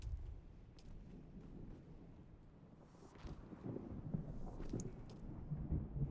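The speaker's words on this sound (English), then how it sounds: "I love how you can hear the storm rolling in" Distant thunder from a storm rolling in during a video game rumbles low and faint, with gusty wind-like noise swelling through the middle and end.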